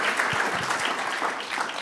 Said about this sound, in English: So we should give him a round of applause for that